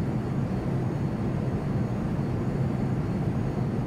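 An airliner takes off in the Prepar3D v3.4 flight simulator, a steady, dense engine roar with heavy low rumble holding evenly throughout, with no talking.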